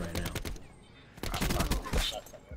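Gunfire in Black Ops 4 multiplayer: scattered, overlapping shots and bursts at moderate level, mixed with other game noise and some speech.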